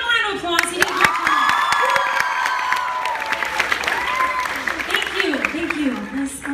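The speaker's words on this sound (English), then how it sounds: "give him a round of applause" Audience applause and cheering with whoops for a boy on stage at a live Miranda Sings comedy show in Miami, a dense steady burst of clapping and shouts filling the room, with voices calling out over it.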